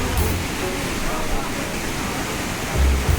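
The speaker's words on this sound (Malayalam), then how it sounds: "നല്ല ഹൈറ്റിൽ നിന്നാണ് താഴോട്ട് ഈ വെള്ളം വീഴുന്നത്." Water plunges from a great height at a waterfall, heard as a continuous dense roar of even loudness with no pause.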